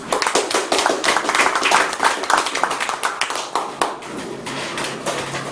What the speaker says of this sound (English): let's give a round of applause first for Toastmaster Mike.